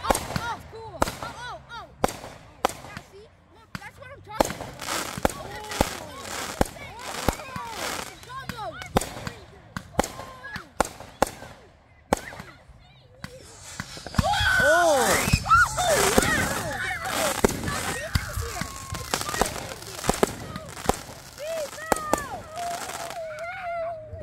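Fireworks pop and crackle outdoors at night in a long series of sharp reports, some spiraling whistles and a dense crackling burst midway, while people talk nearby between the bangs.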